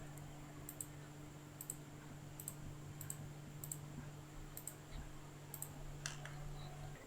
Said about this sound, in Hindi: मैं अब इन तमाम ऑब्जेक्ट्स में से किसी को भी लेफ़्ट माउस बटन क्लिक करता हूँ